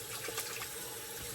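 Running tap water flowing steadily as a razor is rinsed under it, a soft, even splashing wash, brief and fairly quiet.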